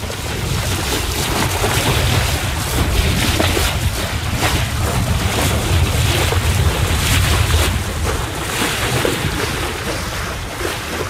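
A sailboat under full main cracks along at about 6.5 knots toward the Percy Islands, with loud continuous rushing water and wind noise buffeting close by, no talking.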